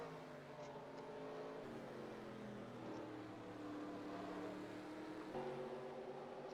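NASCAR Cup race cars in the NR2003 racing game rounding the final corner at Martinsville, a steady layered engine drone of several cars that shifts pitch midway, moderately loud with no talk over it.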